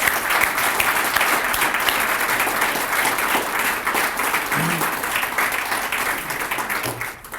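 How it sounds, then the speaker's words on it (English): Sustained audience applause fills a retirement celebration for a CEO, dense and steady clapping from a large crowd that continues throughout before thinning slightly at the end. "So let's take a moment to give them a round of applause."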